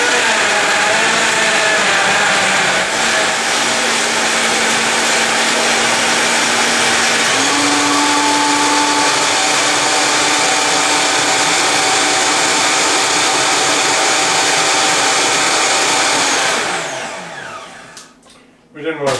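A Vita-Mix 4500 blender puréeing apples into applesauce whirs loudly and steadily, its motor pitch stepping up as it shifts from low to high speed before shutting off and winding down near the end.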